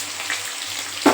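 Potatoes sizzle steadily in hot oil in a pan as spices are added, a continuous close frying hiss with a sharp louder burst near the end.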